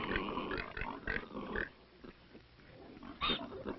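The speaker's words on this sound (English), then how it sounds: "Pigs are bred not only for their meat, but also for their manure" Pigs on a Chinese farm grunt and squeal in a few short, rough bursts amid a dull, muffled background, moderately close and fairly faint.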